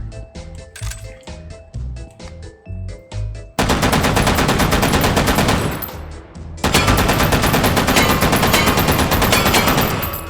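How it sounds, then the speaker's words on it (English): A WWII light machine gun is fired from the hip in the H3VR VR game. It opens with rapid, clattering bursts broken by short gaps, then settles into two long, loud, sustained strings of automatic fire with a brief pause between them. "Again, firing from the hip, not very recommended."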